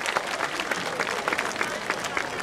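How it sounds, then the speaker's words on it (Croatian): Applause from an audience at the opening of a youth culture festival in Knjaževac, Serbia, greeting a brass band: steady, dense clapping throughout, moderately loud, with scattered crowd noise and a voice faintly mixed in. "Molim vas, jedan veliki aplauz za fanfare."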